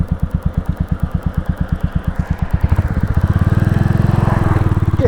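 A Royal Enfield Classic 350 motorcycle is ridden along country lanes, its single-cylinder engine thumping at a slow steady beat that quickens and thickens as it pulls away, loud and close.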